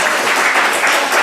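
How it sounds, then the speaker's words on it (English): Dense, even applause fills a short stretch as a poetry-event audience claps for a doctor, a broad continuous patter without pause. "Can we have another round of applause for our doctor?"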